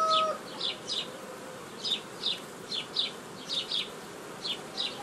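Honeybees buzz during a hive inspection at an apiary, with individual bees droning in and out close by in repeated short passes over a quiet outdoor background.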